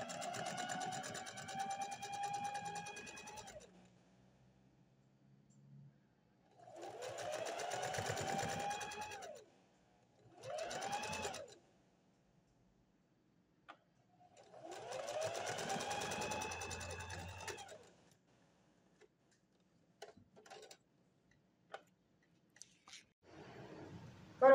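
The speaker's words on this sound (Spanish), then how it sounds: "luego doblar un centímetro y pasar la costura en ambas sisas" Sewing machine stitching the armhole seam of a bodysuit, running in four bursts of steady whirring separated by quiet pauses and small handling clicks.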